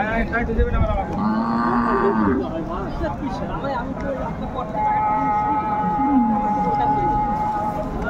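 Dairy cows and calves moo loudly in long, drawn-out calls, one after another, while people talk nearby at a cattle market in Raniganj, Dinajpur.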